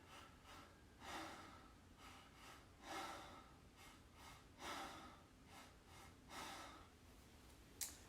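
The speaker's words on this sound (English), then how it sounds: "it's going to be belly, chest, exhale, belly, chest, exhale" Deep rhythmic breaths in a belly, chest, exhale breathwork pattern: paired inhales followed by a longer rushing exhale, repeating about every two seconds, close and soft over a faint steady background hiss.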